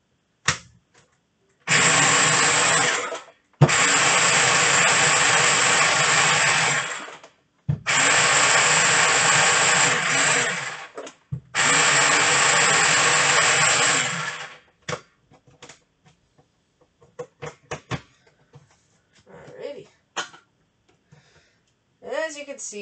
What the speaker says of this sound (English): I'm just going to grind this up really quick.